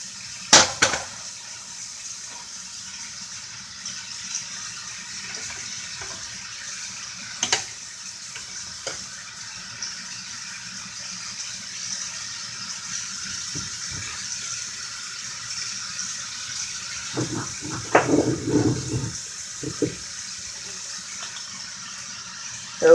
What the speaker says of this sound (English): while those are being rinsed off in cool water